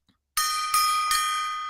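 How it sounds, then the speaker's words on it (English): A small gong is struck three times at an even pace, each bright, ringing hit loud and close and overlapping the last, with the tone lingering afterward. "Producer Robert got me this gong."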